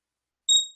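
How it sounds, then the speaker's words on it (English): A stock trading chart alarm sounds as a single short, clean electronic beep tone that starts abruptly after a silence and fades quickly. "Chart alarm's going off on stocks."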